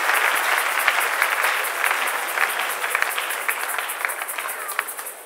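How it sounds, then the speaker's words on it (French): Church congregation applauding at a healing faith service, dense steady clapping from many hands filling the whole stretch, fairly loud and close with no talk over it. "Acclamons fortement le Seigneur Jésus."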